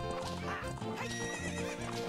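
Epona the horse in the video game Zelda: Ocarina of Time on 3DS, neighing and whinnying with galloping hoof clip-clops, over game music, loud and close.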